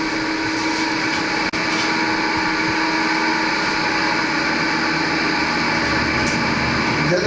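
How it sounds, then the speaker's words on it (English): An engine runs at a slaughterhouse, a steady loud mechanical drone with a high whine that holds almost unbroken throughout, apart from one sharp dropout early on. "we hear the engine start, we going in."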